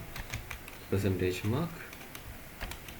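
Typing on a laptop keyboard: quiet, quick key clicks in a loose series, with a person talking briefly over them.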